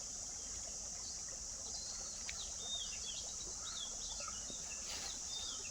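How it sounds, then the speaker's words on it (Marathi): Several birds chirp and twitter in a forest beside water, short bright calls scattered over a faint steady trickle and a high insect-like hiss, fairly distant and quiet throughout. "पक्ष्यांचा तर भरपूर आवाज येतो आहे."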